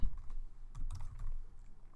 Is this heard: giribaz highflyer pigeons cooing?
no